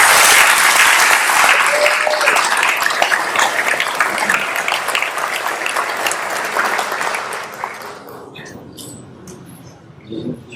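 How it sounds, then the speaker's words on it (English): A school auditorium crowd applauds senior athlete award winners at a high school scholarship and awards ceremony, with loud, dense sustained clapping that thins and fades near the end, then a brief voice. "Let's give them one more round of applause."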